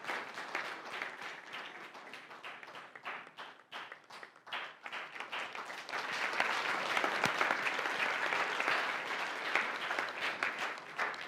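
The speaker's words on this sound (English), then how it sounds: "Round of applause, folks." Sustained applause from a workshop audience of a few hundred people, steady dense clapping for about eleven seconds that swells louder in the second half.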